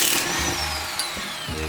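Power tool, likely an impact wrench, working on the wheel bolts of a 2022 Subaru BRZ: a loud close whine with a falling pitch and brief bursts near the end, no talk.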